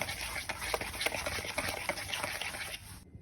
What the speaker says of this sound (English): I'm just going to whisk it some more